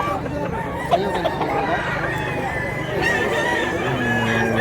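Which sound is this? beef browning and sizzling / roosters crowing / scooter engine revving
roosters crowing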